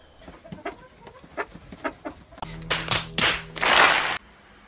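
A rooster clucks in a series of short, sharp bursts, then crows loudly in two harsh, rising calls near the end, close and prominent with no talking.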